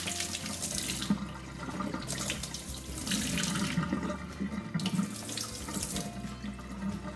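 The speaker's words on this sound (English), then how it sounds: "I want to get the water mixed in all the way around all my beans" Tap water runs steadily into a sink while peas and mung beans are rinsed for sprouting, a continuous hissing splash with slight swells, close and alone with no talk.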